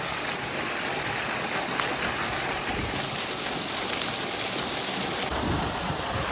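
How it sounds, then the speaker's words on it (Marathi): Water gushing steadily and loudly from the outlet of a Rotomag 3 HP solar pump on a farm, a dense continuous splashing roar close by with no break. "तुम्ही बघू शकता कशा पद्धतीने पाण्याचा प्रेशर चालू आहे"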